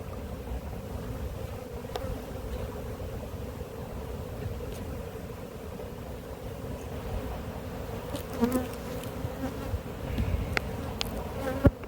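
Honeybee colony at an apiary, an overly large summer colony, buzzing as a steady close drone throughout, with a few louder bee passes near the end.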